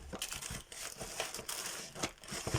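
Close, quiet crinkling of a small plastic bag of beads, irregular rustles and crackles repeating throughout with no talking.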